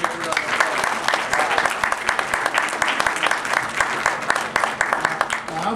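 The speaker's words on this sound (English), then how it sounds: "Give him a big round of applause." Sustained applause from an audience, steady dense clapping throughout with faint crowd voices mixed in.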